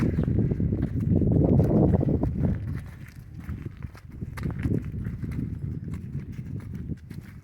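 Steady clip-clop of a black stallion's hooves walking on a hard surface, close by, with faint background murmur.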